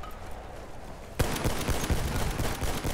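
Rapid bursts of automatic gunfire erupt partway through a Battlefield 1 match, loud and dense, with sharp repeated shots layered over a busy battle background.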